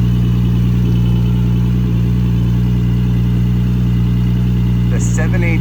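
A Porsche GT3 RS engine running loud and steady at idle, a deep continuous rumble with strong low harmonics, close up, with people talking over it.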